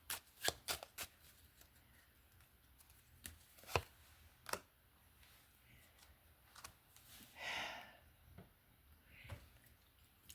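A deck of cartomancy cards is shuffled close up in quick riffling bursts and a few sharp slaps, quieter soft rustles in between, fairly faint with no talk.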